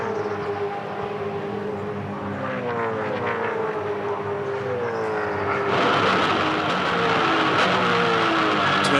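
V8 Supercars race cars at the Tasmania circuit: a loud, steady engine drone with shifting harmonic pitch as cars pass, swelling broader and louder toward the end, with no talk.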